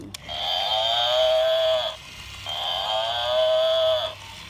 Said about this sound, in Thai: ควาย บัฟฟาโลควาย